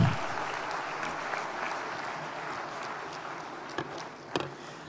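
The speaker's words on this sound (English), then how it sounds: "Another round of applause to Mr. Kabushenga." Steady applause from a large crowd at an accountants' congress fills the whole stretch, dense and even, with a couple of sharper claps standing out near the end.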